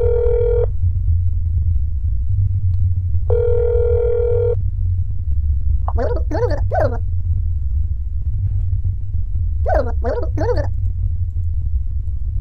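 Two long ringing tones from a phone call in the video game That's Not My Neighbor, each followed by a pause, then short garbled voice-like bursts over a steady low rumble.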